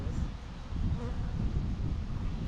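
Bees buzzing in a garden, a close steady insect drone running throughout at moderate level.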